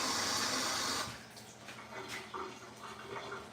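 A kitchen tap runs during late-night cheesecake baking: a steady hiss of flowing water for about a second, then quieter trickles and splashes, recorded close with no voices.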